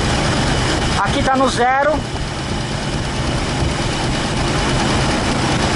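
A Ford Maverick V8 engine idles with a steady low rumble while a person briefly speaks nearby over the running motor.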